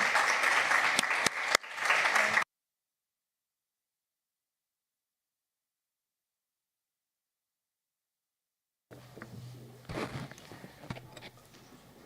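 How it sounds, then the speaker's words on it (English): An audience at a museum panel session applauds the experts, a short burst of clapping followed by silence, then softer scattered clapping and movement. "I would like to ask you a strong applause for our esteemed experts on this panel"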